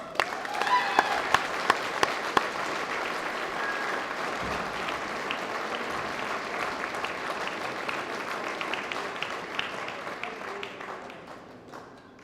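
A crowd gives sustained applause after the 2018 All-Ireland softball handball ladies singles final, a steady wash of clapping with a few sharp claps early on that fades at the end.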